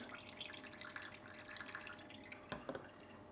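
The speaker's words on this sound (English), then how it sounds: "And we'll let that drip through." Coffee drips through a filter in faint, irregular small drops and trickles, soft and close, with a slightly louder splash near the end.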